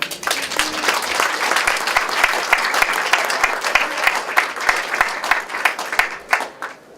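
An audience at a UN photography exhibition bursts into sustained applause to welcome a speaker, dense clapping steady throughout and tapering slightly at the end.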